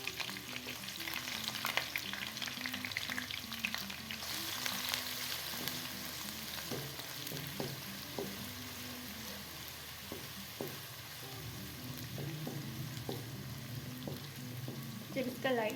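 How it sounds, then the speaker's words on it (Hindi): Onions sizzling steadily in hot oil in a home kitchen pan while cooking aloo gobi, a continuous crackling fry with occasional stirring scrapes, moderately quiet and close. "प्याज को हम अच्छे से फ्राई करेंगे।"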